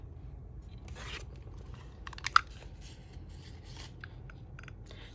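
Scissors snip a small notch into a paper folio journal, a few quiet, close cuts and rubbing sounds, with one sharper snip standing out midway.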